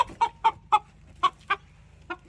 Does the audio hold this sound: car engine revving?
no